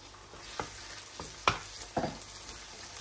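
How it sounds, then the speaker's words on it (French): Green condiment paste sizzles in a hot pan while tiger prawns cook, with a few sharp stirring scrapes and clacks over a quiet frying hiss, fairly close and with no talk. "Donc là j'ajoute mes condiments verts, ma pâte de condiments"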